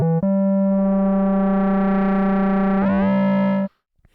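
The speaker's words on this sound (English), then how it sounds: "You sort of find that distorted sweet spot and then you can dial it in as you're playing." A Moog Grandmother analog synthesizer run through distortion holds one sustained, buzzy, harmonic-rich note, loud and alone, with a brief dip at the start and a warbling shift near the end before it cuts off.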